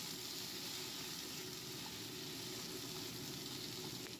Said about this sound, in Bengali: একটু সবজি ভেজে নিলাম পালং শাকের জন্য।